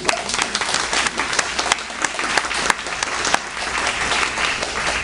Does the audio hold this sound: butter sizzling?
no